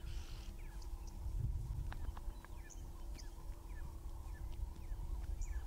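A distressed female zebra calls out at sunrise in the wild, a series of rough, vigorous cries repeated over and over, heard from a moderate distance against steady low background rumble and scattered bird chirps.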